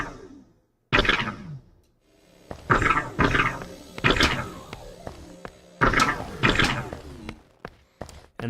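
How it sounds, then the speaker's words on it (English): A video game laser gun fired in a space with concrete walls, several loud bursts spaced a second or so apart, each followed by a brief reverberant tail bouncing off the surfaces. "So this is the laser gun bouncing off of the concrete walls."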